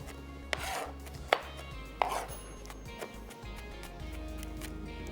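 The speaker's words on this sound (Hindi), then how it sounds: "मोटा मोटा सा जो है टमाटरों को चॉप कर लेना है।" Knife chopping blanched, peeled tomatoes into coarse pieces on a board: several sharp, spaced cutting thuds close up in a quiet kitchen.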